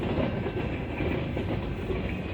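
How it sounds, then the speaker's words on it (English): Close, continuous rumble and rhythmic clatter of train wheels rolling over rails as steel-laden freight cars pass, steady and loud with no talking. "Train wheels."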